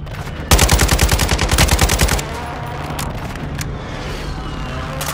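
A loud, sustained burst of rapid airstrike gunfire in Warzone 2, a dense stuttering stream of shots for about two seconds that cuts off abruptly, followed by quieter distant game ambience.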